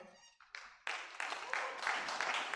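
Audience at a Lagos business and policy summit claps after a brief quiet lead-in, with sustained, fairly faint applause that continues steadily.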